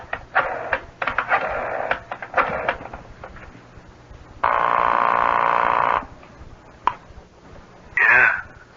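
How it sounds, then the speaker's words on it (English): An old telephone in a radio drama scene: handset clatter and clicks, a steady electric buzz lasting over a second, then a brief warbling ring near the end, close and fairly loud with no talking. "You just pick up the phone and there you get right through."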